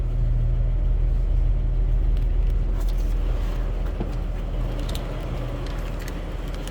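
1957 Chevrolet 210 sedan with its 235 six-cylinder engine idling after start-up, a close, steady low rumble that eases slightly in level, alone without talk.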